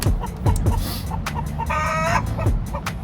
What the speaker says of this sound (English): Chickens ain't happy that I'm doing this.